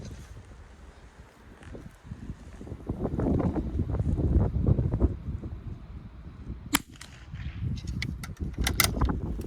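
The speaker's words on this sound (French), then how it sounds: "il y a vraiment trop de vent" Strong wind buffets and roars across the microphone in rising gusts at an outdoor .22 Long Rifle shooting session, with a few sharp clicks and snaps near the end.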